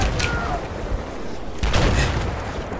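Grenade blast and gunfire in Battlefield 4 combat, a dense rumbling burst of booms and shots that swells again partway through, loud and continuous with faint voices underneath.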